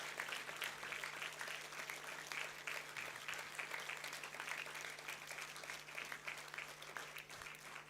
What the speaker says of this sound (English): Come on, ladies and gentlemen, put your hands together louder.